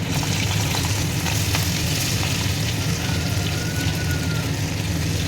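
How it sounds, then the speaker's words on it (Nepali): Corn fries in a pan with a loud, dense, continuous crackling sizzle like heavy rain, close and steady with no talk. "यसलाई चाहिँ 5 मिनट जति फ्राई गर्नुपर्छ है।"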